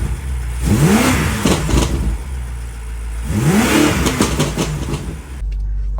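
A BMW F8X M car with newly installed paddle shifters revs twice at close range, each loud rising engine roar falling back to a steady idle.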